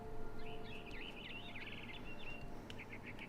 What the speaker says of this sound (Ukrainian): Потім я почула за вікном щебетання.